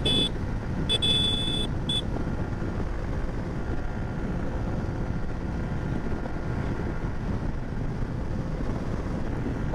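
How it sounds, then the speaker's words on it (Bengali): Suzuki Gixxer Monotone motorcycle ridden fast on an open road, a steady roaring rush of engine and wind buffeting that stays loud and even throughout, with no voices. "বাইক 70-72 চালাইলে তো নয়েজ আসবে"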